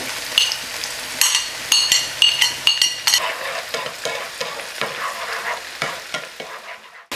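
Minced onion sizzles and crackles steadily in hot oil in a pan, with repeated scraping strokes of a utensil stirring it close by.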